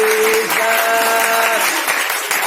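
A church congregation applauding, dense continuous clapping close by. A sustained musical tone runs underneath during the first part.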